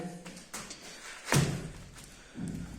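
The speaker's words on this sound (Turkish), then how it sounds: "Ayağımı hafif vuruyorum. Ki yapışsın diye." A foot taps lightly on foam to press it down and make it stick, giving a few soft, close thuds, one firmer than the rest, with quiet handling noises between.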